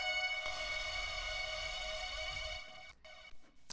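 Another vocal chop sample from a remix, a bright, rich sustained sung tone that rings steadily for a few seconds before chopping into short, stuttered fragments at the end.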